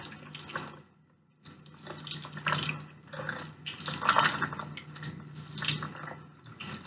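Light stream of water rinsing shaving cream off a piece of pottery, a soft running splash that starts, briefly stops, then resumes unevenly with small drips, close and fairly quiet.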